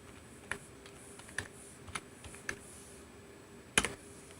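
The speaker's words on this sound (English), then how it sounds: "Working no problem to type with this keyboard to Android." Typing on an Xtreme Bluetooth keyboard connected to an Android device: a handful of sharp, isolated key clicks spaced about half a second apart, with a slightly louder double strike near the end, close and quiet over faint room noise.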